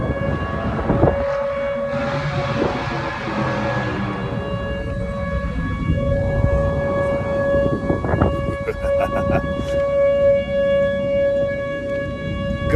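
Tornado siren test on the University of Oklahoma campus, a steady wailing tone heard from a distance over outdoor noise, footsteps and scattered rustling.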